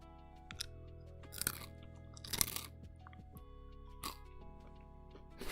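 Crunchy chewing of food close to the mic, with several sharp crunching bites standing out over a steady low hum, and no talking.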